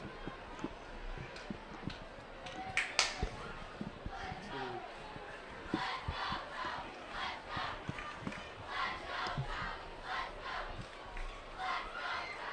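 Crowd at a varsity high school football game at night, cheering and chanting with rising waves of shouts and yells, sustained and fairly distant, led by cheerleaders in the stands.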